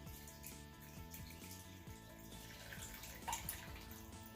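A milk and alcohol mixture for a strawberry lime margarita cake is poured out in a continuous trickling stream, with a brief splash near the end.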